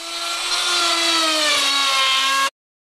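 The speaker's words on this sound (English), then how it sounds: "you're going to be sanding a little more like this." A random orbital sander runs at speed on a surface, giving a steady, loud whining hum with a faint downward drift in pitch before it cuts off abruptly.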